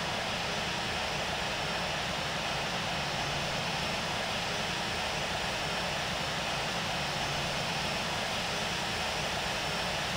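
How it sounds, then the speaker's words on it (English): A private jet engine spooling up during startup in the Infinite Flight simulator game, a steady broadband whine and rumble that holds level and fairly loud throughout with no talk. "starting up engine 1"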